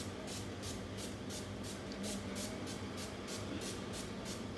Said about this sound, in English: I'm just taking my makeup fixer and just spraying this on my face.